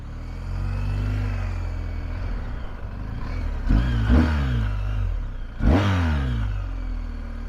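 A 2021 BMW R 1250 GS motorcycle with shaft drive, its engine rumbling while riding and revving up twice in quick rising surges over a steady low drone.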